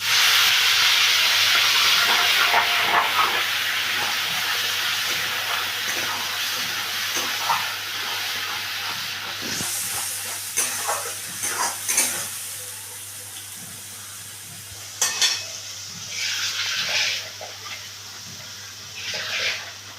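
Spice paste hits a hot pan of whole garam masala and a dried red chilli, setting off a loud, steady sizzle with steamy hiss and occasional stirring scrapes, no voices.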